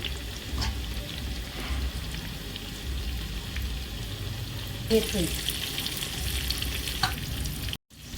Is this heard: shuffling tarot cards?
no